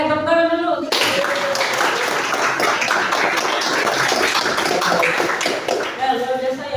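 A classroom group claps hands together after a student group's discussion presentation, a dense, steady patter of many palms lasting several seconds, with brief voices heard at the start and end.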